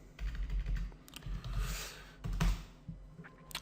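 Keys clatter on a computer keyboard at close range while PHP code is entered, steady quick typing with uneven bursts and a soft low thump under the clicks.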